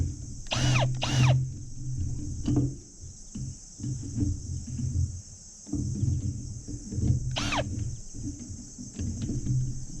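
A power drill with a socket loosens a nut on a log trailer outdoors, giving short whirring bursts early on and again later over a low mechanical rumble, while insects chirp steadily in the background.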